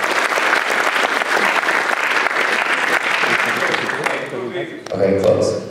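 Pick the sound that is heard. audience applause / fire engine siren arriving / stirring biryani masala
audience applause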